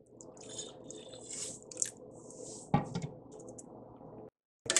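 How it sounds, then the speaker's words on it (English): Water poured from a vessel into cooked rice in a bowl for pakhala, a close, splashing trickle lasting several seconds, with a sharp knock midway, then a brief silence before it resumes. "First I am going to add some water to the rice."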